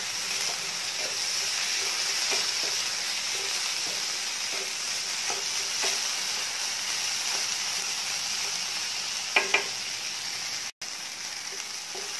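Onion and tomatoes fry in a pan with a steady, close sizzle, with a few soft clinks of stirring against the pan partway through.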